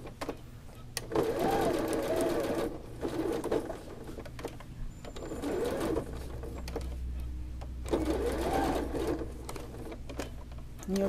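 A sewing machine stitching around a fabric flower embellishment, running in steady bursts of rapid mechanical whirring with short pauses between stretches, close and clear.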